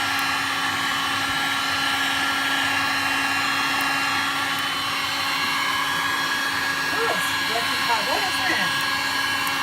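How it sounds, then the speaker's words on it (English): A heat gun blasts a steady, loud airy whoosh while browning meringue on a trifle, and a person talks briefly over the constant roar. "I can't find it, so this is a heat gun."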